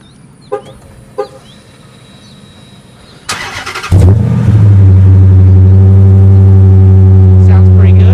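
2010 Dodge Challenger R/T with dual exhaust turns over with a short starter whir, then fires and settles into a loud, deep, steady idle rumble, preceded by a couple of faint clicks and quiet background sounds.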